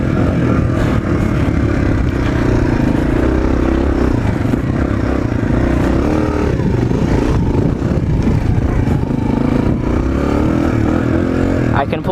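A Suzuki DR-Z 125L dirt bike is ridden with a loud, continuous engine drone and wind rush close to the mic, shifting in pitch as the throttle changes.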